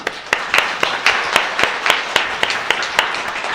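A church congregation claps in welcome, a steady rhythmic beat of loud, evenly spaced claps filling the room.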